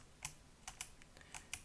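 Sharp, separate key presses on a computer keyboard while working in Call of Duty Radiant map editing software, about six quiet clicks in irregular rhythm over a faint room hiss, with no voice.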